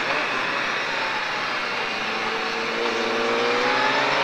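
Triumph Daytona 675 motorcycle accelerating hard on the La Ferté-Gaucher race track, a loud, sustained engine wail whose rising pitch climbs steadily through the gears, wind noise mixed in.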